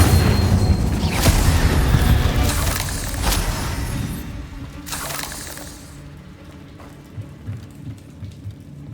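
In Hogwarts Legacy, the Incendio fire spell erupts in a few heavy booming blasts with crackling, shattering debris, then the noise fades into lighter scattered pops.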